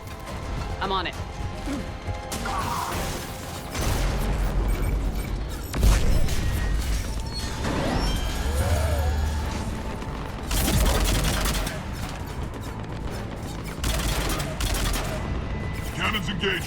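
Heavy cannon fire in Mass Effect 3 on Omega booms out in repeated loud blasts over a dense battle backdrop of gunfire and crashes, with clustered volleys across the span.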